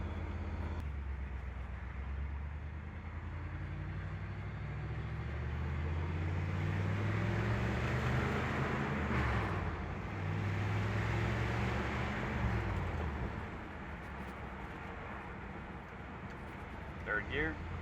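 A 1964 Mercury Marauder with a numbers-matching Z-code engine cruises smoothly through second and third gear, its low engine drone steady from inside the car with a few rising and falling pitch sweeps as it shifts.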